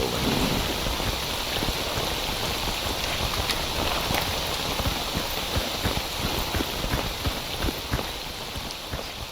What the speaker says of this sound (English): the foliage has an effect on the amount of rain that is falling around me